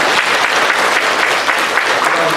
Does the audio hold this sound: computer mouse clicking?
no